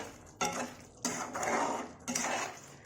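A spoon scrapes and clinks against a pan while shev bhaji is stirred and mixed, with three distinct bursts of close metallic scraping separated by short quieter gaps.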